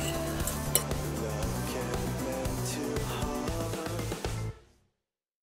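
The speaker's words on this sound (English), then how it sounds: "You want to use a fork to mix all the dry ingredients up." A fork stirring dry ingredients for a gluten-free apple coconut crisp in a bowl, a steady close run of scraping and light clinking strokes that stops abruptly near the end.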